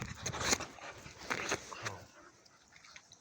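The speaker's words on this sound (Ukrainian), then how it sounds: "він такий у нас спокійний песик" A calm small dog makes a few short, close sounds, soft whimpers or pants among household rustling, with occasional quiet voices in the background.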